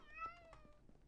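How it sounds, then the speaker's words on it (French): A cat gives one brief, faint meow with a rising then falling pitch, set against a quiet background. "Chat."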